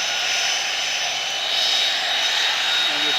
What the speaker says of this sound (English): There's a jet about ready to go.